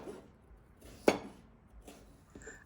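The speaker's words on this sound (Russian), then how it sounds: "Закрываю крышку кастрюли, оставляя отверстие на крышке открытым" A lid set down onto a cooking pot on the stove, a single sharp metallic clank near the mic, with faint kitchen clatter around it.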